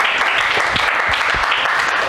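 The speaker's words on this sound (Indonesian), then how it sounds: "kita kasih aplaus buat teman kita" Classroom applause for a classmate, a dense, steady clatter of many hands clapping together, fairly close and continuous for a couple of seconds.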